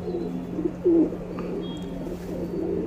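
Male Nagina tumbler pigeons in a loft give a few brief, soft coos close by over a low steady hum.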